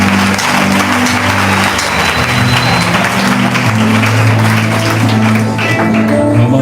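A church congregation claps together in acclaim of the Lord, dense steady applause filling the room throughout with a sustained musical tone beneath it and no break in the clapping.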